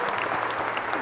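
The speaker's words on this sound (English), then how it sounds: "Let's give them a big clap." Wedding guests burst into close, dense clapping for the couple right after the ceremony blessing, a brief, full round of applause.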